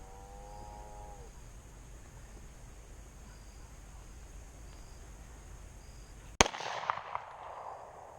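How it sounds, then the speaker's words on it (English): A gunshot from someone shooting nearby: a single sharp, loud crack breaks a quiet outdoor stretch, followed by a few fainter pops and rattles. "I can hear Dad. Must be Vern shooting"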